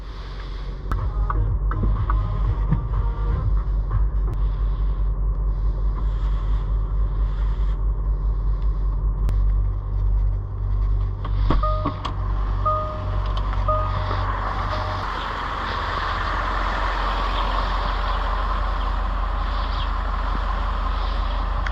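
A Range Rover L322 with a 4.4 TDV8 diesel idles steadily after a cold start on a snowy day, a continuous low rumble heard from inside the cabin with a few faint clicks and a slight change in tone partway through.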